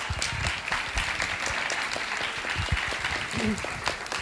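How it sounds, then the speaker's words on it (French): An audience at a Francophonie contest applauds performers, with sustained clapping from a crowd running throughout. Voices and cheers sound over the applause at times. "Je vous demande de les applaudir encore parce qu'on a trouvé ça extraordinaire."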